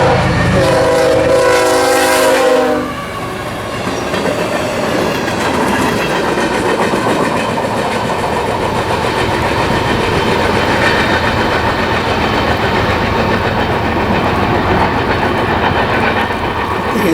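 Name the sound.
CSX train hauling a high and wide load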